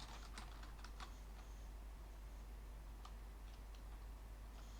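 Quiet, irregular clicking of keys on a computer keyboard over a steady low hum, several quick keystrokes in bursts.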